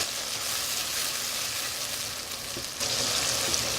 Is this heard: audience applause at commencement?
no